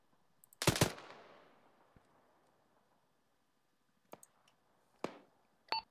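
Enemy gunfire in the military game Arma 3 on the Malden map: one sharp nearby shot with a long decaying echo, followed after a quiet gap by a few fainter isolated cracks and clicks.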